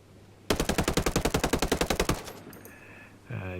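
A TAVOR rifle in Ghost Recon Breakpoint fires one loud, rapid full-auto burst of about twenty evenly spaced shots lasting under two seconds. A brief clatter and a short mechanical tone follow.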